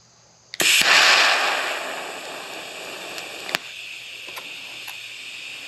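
TIG welding on 16 gauge steel at 70 amps with a Simder TIG-250 AC/DC welder: a steady close hiss of the arc starts abruptly, holds loud for about a second, then fades gradually into faint gas flow with a few small clicks.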